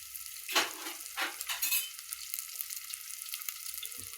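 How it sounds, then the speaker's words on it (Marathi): Green chilies drop into a hot pan and are stirred, giving a few sharp bursts of sizzling in the first two seconds that settle into a faint, steady frying hiss, with one soft clink near the end. "थोड्या मिरच्या पण टाकू बघा."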